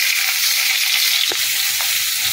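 Potatoes and drumstick pieces frying in a pan of hot oil, a dense constant hiss with a couple of faint stirring knocks, close and steady.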